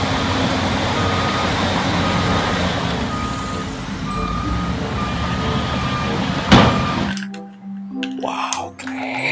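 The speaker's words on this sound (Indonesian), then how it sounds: "Ada mobil tuk pasir hidrolik." A toy hydraulic sand truck repeats electronic reversing beeps under a constant noisy background. The sound then cuts to quieter room noise with faint voices.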